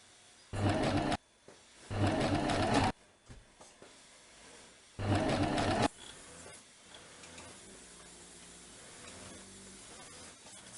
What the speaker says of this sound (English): Sew with a zigzag stitch to maintain the elasticity of the piece.